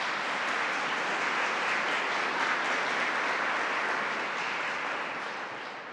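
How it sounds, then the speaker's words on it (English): A room full of people applauds Melinda Pearson at a school mental health program announcement, an even, dense roar of clapping that tapers off near the end, with no talking over it. "Let's give Melinda a round of applause as well."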